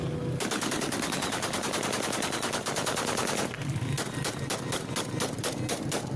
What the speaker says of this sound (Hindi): विद्रोहियों ने फायरिंग कर बनाया कब्जे का जश्न।